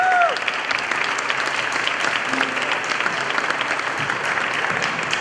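Applause from an outdoor crowd for the brass band at a summer street event in Baie-Saint-Paul: dense, steady clapping throughout, with a brief cheer near the start.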